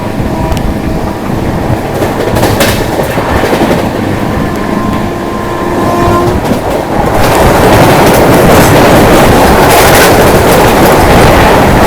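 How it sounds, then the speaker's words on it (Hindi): The Bihar Sampark Kranti Express, New Delhi to Darbhanga, runs at 130 km/h, giving a loud, steady rush and rumble with faint rhythmic clatter that swells louder in the final seconds. "मैं चल आपको दिखाता हूँ जैसे अपनी ट्रेन 130 की रफ्तार पर चलती है"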